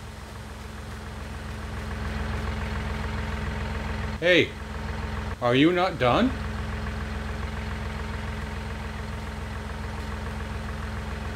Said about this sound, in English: He'd leave the tractor running.